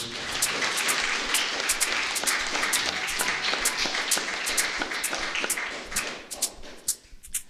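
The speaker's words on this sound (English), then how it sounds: "one more round of applause for LA Liz Johnson" Audience applause for a poetry reader at a creative writing performance, a dense patter of clapping that holds steady for several seconds, then thins into a few scattered claps and fades.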